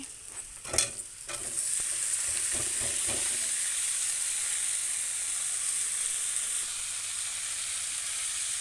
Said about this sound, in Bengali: এখন আমি টমেটো ভেজে নিচ্ছি